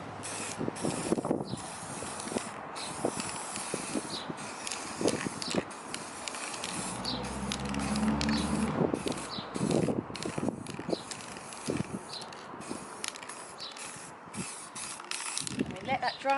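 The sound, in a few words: spray paint can spraying Quidditch hoops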